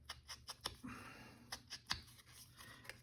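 Scissors snipping paper while edging a journal tag, a string of short crisp cuts and rustles repeating at close range, fairly quiet and with no talking.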